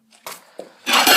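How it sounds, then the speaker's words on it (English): A dish set down into a kitchen sink, giving a couple of light clinks followed by a louder clattering scrape of crockery against the basin, close and brief. "the dish is in the sink"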